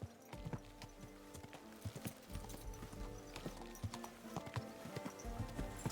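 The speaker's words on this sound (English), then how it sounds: "Easy, good horse." A horse's hooves clip-clop on the ground in the video game Kingdom Come: Deliverance 2, quick irregular hoofbeats heard close but fairly quiet, with a low continuous rumble beneath them.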